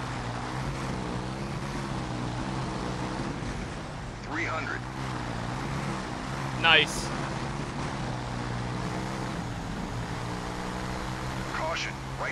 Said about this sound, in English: These are proper truck engines.